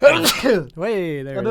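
A single sharp sneeze bursts out, followed right away by a person talking.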